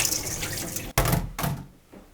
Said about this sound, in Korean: 정확하게 쌀을 재서 400ml, 물도 똑같이 1대1로 넣을 건데 지금은 한번 씻어 주겠습니다